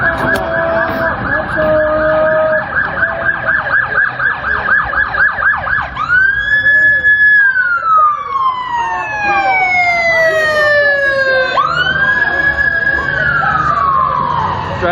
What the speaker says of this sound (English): Drive-by siren.